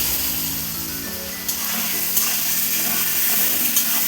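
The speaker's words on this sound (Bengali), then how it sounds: "এবার যতক্ষণ না তেল ছাড়ে বাটনাটা এইভাবে কষে নিতে হবে" Spice paste fries in hot oil for a katla fish and potato curry, giving a steady, loud sizzle throughout with a few soft scrapes of stirring.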